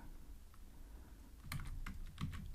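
Keys tapped on a computer keyboard while coding a note-taking app function, quiet at first, then a cluster of crisp clicks in the second half over a low background hum.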